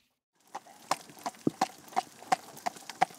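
A carriage horse's hooves clip-clop in a steady, even rhythm at a trot, about three strikes per second, fairly close and clear with no talking over them.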